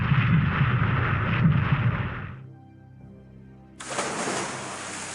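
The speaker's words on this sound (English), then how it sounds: "the next destroyer get a welcome with massive explosion" A massive explosion strikes a destroyer during a War in the Pacific naval combat game, a loud sustained roaring blast that drops away to a low rumble before a second bright, hissing burst surges in.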